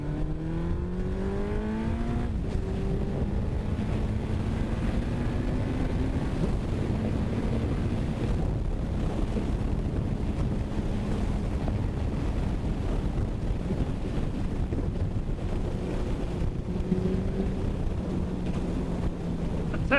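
A Suzuki Hayabusa motorcycle engine on a test ride, rising and falling in pitch through gear changes under heavy wind buffeting across the microphone, continuous and loud throughout.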